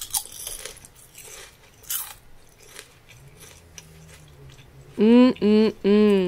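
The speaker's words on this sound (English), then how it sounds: "check this out. Check out this crunch" Oven-baked kale chips crunch loudly close to the mic, with a few soft bites and chews first, then three sharp, bright crunch bursts in quick succession near the end.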